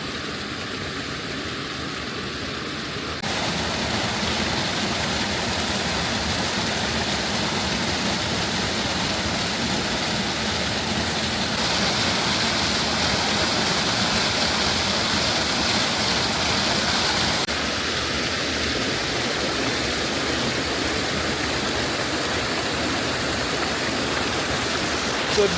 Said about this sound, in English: So this is me after discovering a waterfall here in Muko.